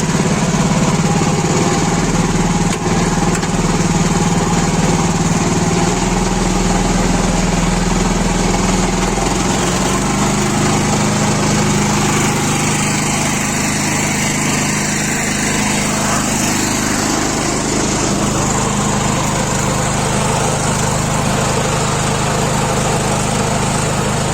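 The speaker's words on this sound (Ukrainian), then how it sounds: "Ось так іде оранка." A small engine-powered plough works a field, its motor droning steadily and fairly loud throughout, with a constant low rumble and no pauses.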